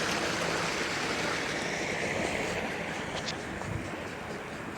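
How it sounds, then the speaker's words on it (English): Water rushing steadily through an underwater irrigation canal that feeds farmers' fields beside a sunflower garden, a continuous broadband wash with no break over the whole stretch. "This is where all the water comes, the underwater canal for the farmers to use to water their fields."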